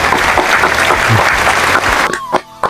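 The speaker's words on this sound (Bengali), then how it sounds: "হাততালি" A small gathering claps loudly and continuously at a celebration where sweets are being handed out. The applause breaks off near the end with a couple of brief voice-like sounds.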